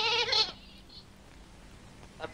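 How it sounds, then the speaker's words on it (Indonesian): A goat lets out one loud, wavering bleat right up close, then the sound drops away to quiet background. "pergi hantar kambing dengan lembu ni kepada tuan dia"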